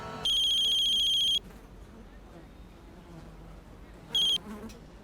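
An electronic telephone ringtone sounds loudly for about a second in a tense TV crime drama, goes quiet, then chirps again briefly over a low background hum.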